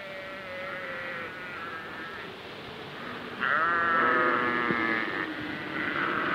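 Sheep bleating out at pasture, a few drawn-out quavering calls with the loudest midway through, over a steady bed of buzzing insects and flies; no one speaks.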